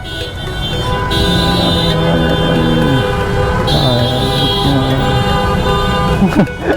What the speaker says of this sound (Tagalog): Dahil bumubusina eh, no?